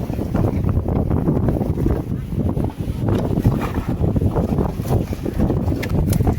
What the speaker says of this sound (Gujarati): પવનની ગતિ આજે વધારે છે